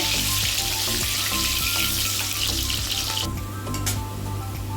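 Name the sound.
green banana (kanchkola) frying in oil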